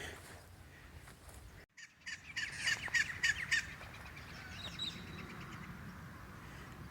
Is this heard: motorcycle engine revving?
no